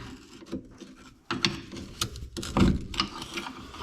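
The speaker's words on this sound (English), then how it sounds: "Harbor Freight for the win with the ratchet" A Harbor Freight ratchet wrench turns bolts on the rear end of a 1964 Comet, giving close, rapid pawl clicks in uneven bursts alongside some metallic knocks.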